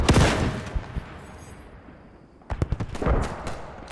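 Gunfire and artillery from a World War II video game battle around an 88 gun, heavy booming blasts with rattling shots in two dense bursts split by a short lull, loud and close.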